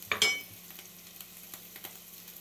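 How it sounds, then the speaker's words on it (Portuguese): Chicken fillet sizzling in a frying pan for a quick home-cooked meal, a brief stir or clatter at the start, then a steady soft fry hiss with faint crackles, no talking. "comecei pelo filé de frango, tá aqui, fritando, né?"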